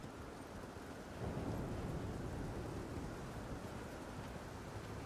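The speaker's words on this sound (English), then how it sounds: "now the storm kicks in" A thunderstorm rolls in across the Jagged Peak area in Elden Ring, a deep rumble swelling into a steady wash of rain and wind that stays dense and broadband throughout.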